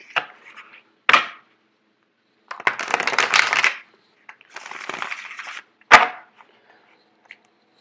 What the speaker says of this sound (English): I'm actually going to do one more shuffle.